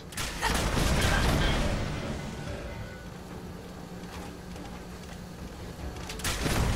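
An explosion in the video game Fallout 4 Automatron booms loudly, then a rumbling, crackling tail fades over several seconds before another burst rises at the end.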